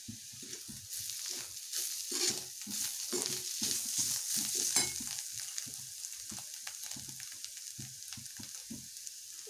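Bitter gourd (karela) vegetable cooks in a covered pan over low gas, giving a steady soft sizzle and crackle with faint rhythmic tapping throughout, close and alone without talk.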